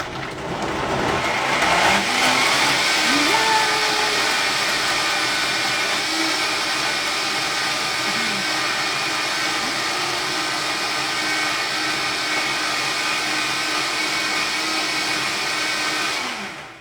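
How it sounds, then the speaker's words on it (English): A vacuum blender blending salad dressing under vacuum runs as a loud, steady, close-up motor whir with a high whine, holding constant for about sixteen seconds before cutting off. "we're gonna blend up our dressing under vacuum, which is super cool"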